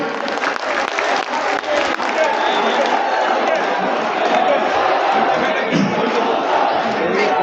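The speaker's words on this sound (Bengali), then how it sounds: "আমরা করতালির মাধ্যমে তাকে স্বাগত জানাই, তাকে শুভেচ্ছা জানাই।" A crowd at a BNP workers' rally in Shahbag claps to welcome Mirza Abbas, giving a dense, sustained wall of applause lasting several seconds with voices and shouts mixed underneath.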